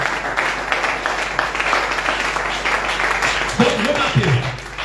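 A church congregation applauds and cheers for the Lord, a broad steady wash of clapping and voices that holds across the whole stretch and swells slightly near the end.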